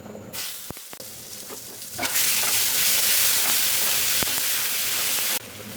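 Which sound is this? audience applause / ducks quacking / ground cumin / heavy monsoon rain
ground cumin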